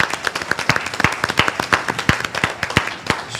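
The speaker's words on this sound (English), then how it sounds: "So I'd like us to give one more round of applause to Caleb," A school board meeting audience claps for students, a fairly small group of distinct hand claps in an irregular, lively rhythm, close and moderately loud, with faint murmuring underneath.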